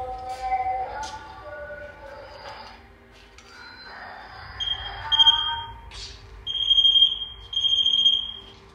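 An electromagnetic field detector alarm sounds inside an abandoned, reputedly haunted prison, giving several loud electronic tonal beeps in the latter half, with voices talking beforehand.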